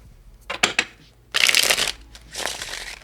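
A deck of tarot cards is shuffled by hand in a quiet room, with a few short riffling bursts followed by two longer crisp rustling shuffles.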